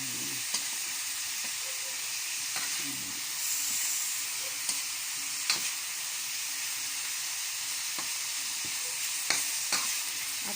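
Pork and liver sizzle and crackle in rendered fat, a steady frying hiss with scattered pops and occasional stirring scrapes, close and alone.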